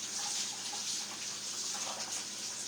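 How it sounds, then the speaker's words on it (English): Hands being washed under a running kitchen tap, a steady close hiss of flowing water that holds evenly throughout. "Let me wash my hands off."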